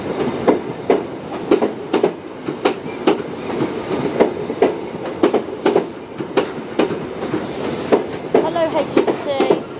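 An HST high speed train passes through Paignton station, its wheels beating a steady, regular clickety-clack of rail-joint clicks across the whole stretch, loud and close, with a faint squeal near the end.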